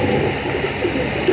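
Pigeons cooing close by, a soft low murmur of repeated coos from a male and female pair of Sundray pigeons in a loft, with a steady background hum and no talking.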